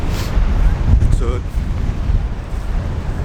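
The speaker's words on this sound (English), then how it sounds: "it is pretty windy" Strong wind on a wave-swept shore buffets the microphone with heavy low rumbling gusts, loud and constant, with a faint brief voice-like sound midway.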